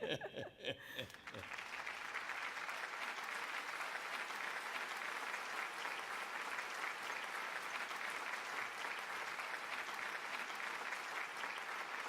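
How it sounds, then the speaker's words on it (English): A song ends abruptly and a large audience at a Japanese cultural center event in Hawaii breaks into long, steady applause, a broad, continuous roar of clapping that holds evenly throughout. "let's keep that applause going."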